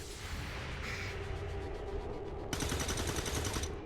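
Heavy gunfire in a video game firefight on veteran difficulty: continuous rapid bursts of automatic fire layered over a rumbling battle din, growing louder and denser near the end.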